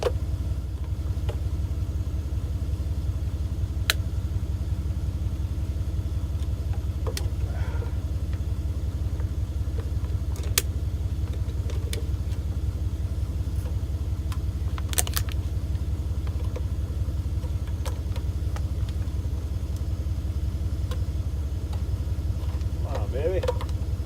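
A Ford 460 V8 with Duraspark ignition runs on the ground, out of a vehicle, a steady low rumbling idle that holds for the whole stretch, with scattered faint clicks and knocks over it.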